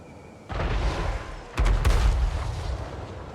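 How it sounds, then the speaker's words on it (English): Grudge throwers bombard a castle wall in the Total War: Warhammer 3 strategy game, with loud heavy booms and crashing impacts, a big burst near the middle followed by rumbling battle noise. "they're taking the wall down here with the grudge throwers"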